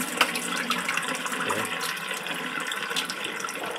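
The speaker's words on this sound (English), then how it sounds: "Yeah, it's just starting to trickle." Water trickles from a bucket through an open-face waterfall reservoir, making a steady, close splashing and dribbling hiss that holds for a few seconds without talk.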